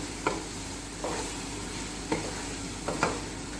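Marinated chicken for Chicken Manchurian is mixed and fried in a pan, a steady loud sizzle broken by four scraping spatula strokes, close up with no voices.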